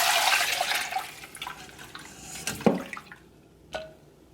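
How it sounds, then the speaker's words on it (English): Soaked kidney pieces and salt water poured through a colander, giving a loud early gush of splashing water that tapers into scattered drips and small splashes. "now we're going to strain this through a colander"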